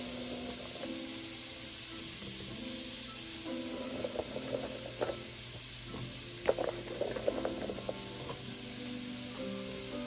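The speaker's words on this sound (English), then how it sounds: "I'm going to place them in this boiling water just to blanch them, to make them soft" Water bubbling at a boil in a pot with green beans blanching, with soft pops and gurgles over a low steady hum, fairly quiet and continuous.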